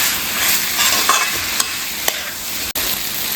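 A mixture is stirred in a hot pan while it cooks. A steady sizzle runs throughout, with a few sharp utensil clicks against the pan and no talking.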